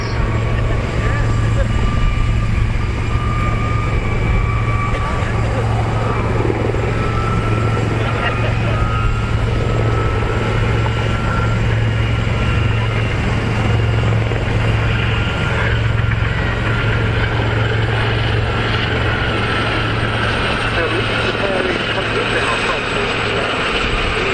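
Westland Gazelle helicopter in No. 32 Squadron colours at the RAF Cosford airshow, a steady loud rotor and turbine drone with a low constant hum running throughout, under continuous commentary over a public address.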